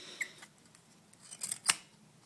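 A homemade bolt-action rifle built of paper with a wooden part and strong springs, being cocked: faint scraping, then a short screechy rasp and a sharp click near the end, close and quiet.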